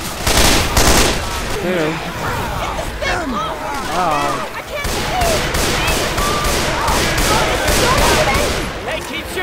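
Rapid gunfire in the zombie shooter Left 4 Dead 2 during a survival round, dense loud bursts of shots crackling almost nonstop, with players talking over the din.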